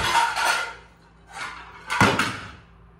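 Metal cookware clattering and banging in a kitchen, three separate bursts of pots and pans knocking together, the last one the sharpest, with quiet gaps in between.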